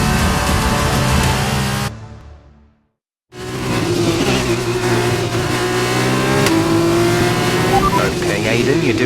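Formula 2 race cars at Abu Dhabi, with loud, high-revving engines whining and shifting pitch. The roar cuts to near silence briefly before resuming, and voices talk over it.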